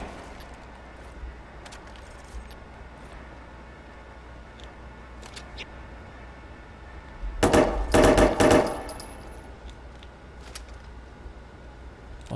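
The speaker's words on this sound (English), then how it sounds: "God, we've got gunfire here" Gunfire in the video game Watch Dogs 2 plays as a short loud burst of rapid shots after scattered quieter pops and clicks, all over a low background hum.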